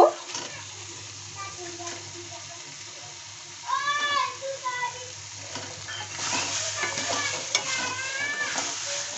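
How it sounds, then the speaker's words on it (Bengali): Fried eggs are stirred into a potato spice masala for a village-style egg curry. Soft sizzling and spoon scraping swell midway and grow busier toward the end, with faint speech-like sounds in the background. "আলু মশলা কষানোর পর এখন আমি দিয়ে দেবো ভেজে রাখা ডিম। ডিমগুলো আমি একটু কষিয়ে নেব।"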